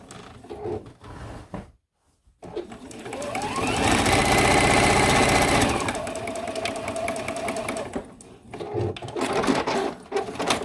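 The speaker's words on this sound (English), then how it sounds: "I'm just going to stitch along that edge until I have reached the point where I started." A sewing machine stitches binding along the edge of a quilt, running in steady bursts that build to a loud, sustained whir in the middle, with a short pause near the start and slower stitching toward the end.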